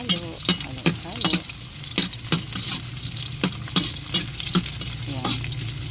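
Chopped onion sizzles steadily in a hot pan in an outdoor backyard kitchen, with repeated scraping strokes of a spoon stirring it and some faint clinks throughout.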